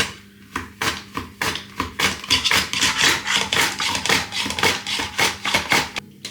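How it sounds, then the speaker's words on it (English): Apples and pears pushed across a mandolin slicer make rapid, rhythmic scraping swishes, each stroke a sharp close rasp repeating steadily about every third of a second, with no talking. "you can adjust it with your mandolin. And then just keep slicing."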